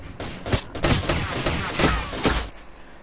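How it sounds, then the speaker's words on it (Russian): Bursts of gunfire and explosions sound from a firefight in the S.T.A.L.K.E.R. Shadow of Chernobyl video game, several loud sharp volleys rattling over about two and a half seconds before cutting off. "Какие-то взрывы"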